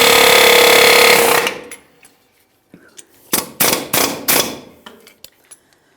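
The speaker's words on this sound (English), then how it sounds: "you can use an air chisel as well" An air chisel works on a rear brake part of a 1994-2001 Dodge Ram 1500, starting with a loud sustained pneumatic hammering, then a pause and several short, sharp bursts of rattling impacts.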